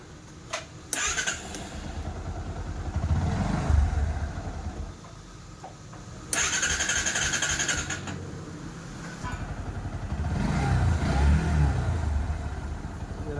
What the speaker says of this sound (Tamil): நம்ம இப்படியே வண்டி ஸ்டார்ட் பண்ணிவிட்டு நம்ம இப்போ இன்ஜின் நல்லா அந்த வார்ம் அப்பில் தான் இருக்குது